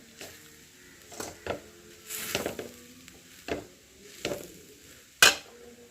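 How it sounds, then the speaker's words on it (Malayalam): Chutney powder ingredients dry roasting in a pan, stirred with repeated scraping strokes that come in short, uneven bursts, close and fairly quiet, with no talking. "നമുക്ക് നന്നായിട്ട് ഇളക്കി കൊടുത്ത് വറുത്തെടുക്കാവേ"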